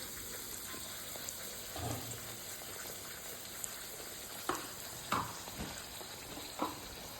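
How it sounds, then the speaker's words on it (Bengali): Green peas kachori fry in oil, giving a quiet, steady sizzle close by, broken by a few soft clinks and bumps of stirring or handling, with no voices. "এভাবে আমি একটা একটা করে সব কচুরিগুলো ভেজে নিয়েছি।"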